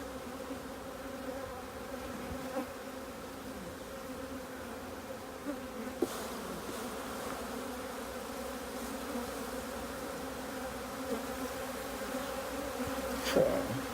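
Honeybees buzz steadily around an open hive during an inspection merging two colonies, a continuous near swarm drone with a few louder passes close by.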